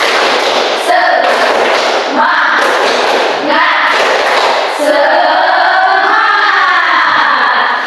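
A school class claps in quick rhythmic bursts of spirit clapping, loud and close, with students' voices chanting between the clapping patterns.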